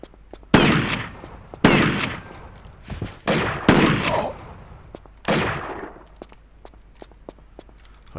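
Turrets being shot in a prototype build of the video game Tomb Raider III, with about six loud, sharp blasts at irregular intervals, each trailing off in a short decay, and light clicks in between.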